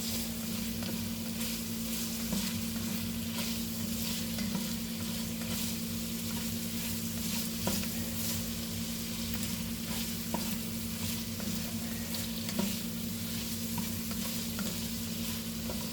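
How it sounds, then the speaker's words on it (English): Garlic frying in a pan for goulash, pushed around with a utensil: a dense, steady sizzle with a low hum beneath and occasional light scrapes, close and continuous. "And I just move it around to keep it from burning."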